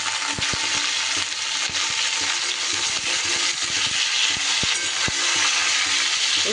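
Cauliflower florets fry in hot oil with salt and turmeric in a kadai, giving a loud, dense, continuous sizzle and hiss. Scattered sharp knocks of a spatula stirring against the pan cut through it, and nobody speaks.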